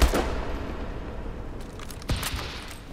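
Gunfire in Call of Duty: Advanced Warfare comes as two separate bursts, one at the very start and another a couple of seconds later, each a sharp crack with a short echoing tail.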